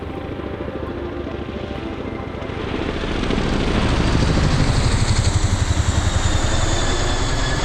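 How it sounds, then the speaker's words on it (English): A helicopter flies over a river near a carp fishing spot, its broadband rotor roar swelling from a steady distant rumble to a louder, closer pulsing drone that continues to the end, with no talking. "Something quite eerie about helicopters."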